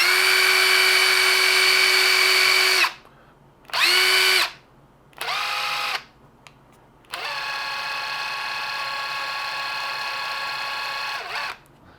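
A Hilti hammer drill whines loudly up close in several bursts: one long run, two short stop-start pulses, then another long steady run that winds down at the end, with no talk.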